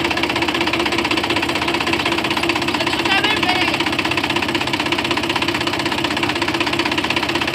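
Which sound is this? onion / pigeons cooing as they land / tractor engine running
tractor engine running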